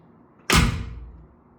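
A 1967 Volkswagen car door shuts with a single solid, close thump, followed by a short fading resonance, alone without talk.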